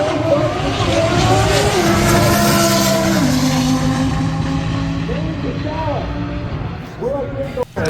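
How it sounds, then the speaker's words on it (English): C6 Corvettes drag race at a Texas event, engines howling loudly through rising revs and gear shifts, with a tire squeal heard as they launch and a crowd talking beneath the roar. "Next up, we got a little bit of drag racing"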